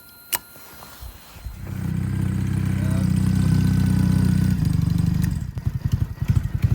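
An old car engine cranks and catches, then settles into a loud, steady rumbling idle up close for several seconds before cutting out, with a few short knocks and a voice around it.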